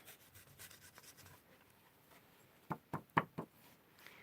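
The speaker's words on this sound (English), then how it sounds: "I can do more of this kind of scraping away in the box" Paint being scraped away inside a box for a craft project: faint rubbing at first, then a quick series of four sharp scraping strokes, fairly close and alone without talk.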